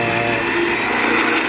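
A new battery-powered magnetic drill for boring holes in steel runs steadily and loudly at close range, with a continuous motor whine and no gaps or voices.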